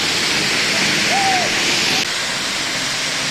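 Njandirukki waterfall at Poomala, flowing water heard as a steady, close, even roar of rushing water that fills the whole clip without a break.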